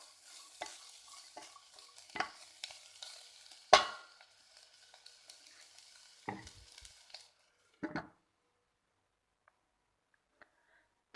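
Cabbage stirred and sizzling in a pan for a chicken tikka crepe filling, with irregular scraping stir strokes over a soft fry, then quieting to near silence with a few faint clinks.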